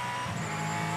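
A Supercars race car at the Thrifty Sydney 500 roars steadily at high revs through a fast corner, a sustained engine whine with a rising tone, loud and continuous.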